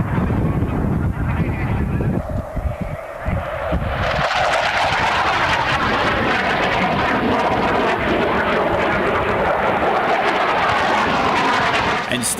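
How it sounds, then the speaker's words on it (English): F-104 Starfighter jets of the Vikings team at the 1985 Leicester Airshow, a loud, harsh jet roar that surges in after a few seconds and holds steady, with a grainy old-recording quality. "Starting off with the fantastic Vikings in their F-104 Starfighters."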